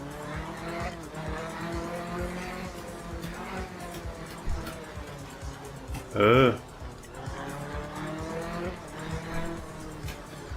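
A car engine drones steadily with tires squealing in a brief skid midway in a racing video game with a 1968 Group 2 car in Norway, with a voice talking over it.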